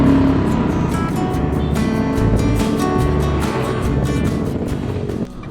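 A car on the road between Surabaya and Malang in East Java, its engine a loud, steady drone close by with rising tones as it accelerates, and road rumble underneath.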